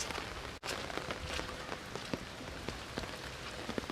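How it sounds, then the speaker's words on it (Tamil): Heavy rain pours steadily onto surfaces beside the sea near a fishing harbour at Thangassery, Kollam, Kerala, a dense continuous hiss broken by a brief dropout and scattered louder drops, with no voices. "நல்லா செம்ம மழைங்க."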